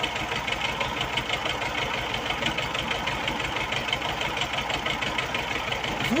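T-25 tractor with a worn, noisy reverse gearbox running, giving a steady mechanical knocking rumble with a rhythmic pulse, close and moderately loud, no talking.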